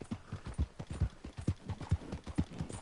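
A horse's hooves clip-clop at a steady walking rhythm in the video game Red Dead Redemption 2, each dull thud close and distinct, with no talk.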